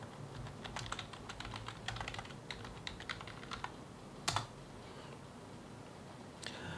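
Fingers typing a username and password on a computer keyboard, a quiet run of light rapid key clicks with a brief louder clatter near the end, no talking.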